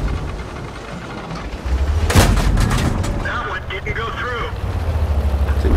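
A big Japanese tank gun, compared to the KV-2, fires in a tank video game. It gives one sharp, loud boom with a rumbling tail over engine drone, and voices talk during it.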